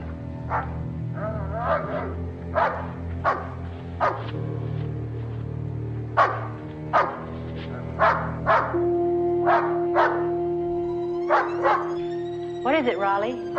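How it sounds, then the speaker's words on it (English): A dog, Raleigh's kind of pet, barks repeatedly in short sharp bursts at midnight inside a house, close and fairly loud over a steady low background, with a few yips near the end. "she was awakened from a sound sleep by the barking of her dog, Raleigh."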